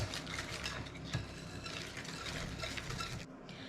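Egg being stirred into thick homemade cookie dough in a bowl, producing a steady, close scraping and squelching texture for several seconds without pause, with no talking.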